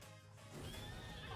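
A horse whinnying in the Miitopia game, a single fairly faint neigh rising over a soft musical background.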